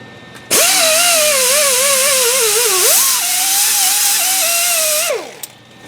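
An angle grinder with a disc grinds powder coating off a car subframe during a Thirdgen subframe connector install, a loud, steady whine running for about four and a half seconds, wavering slightly as the load changes, then spinning down.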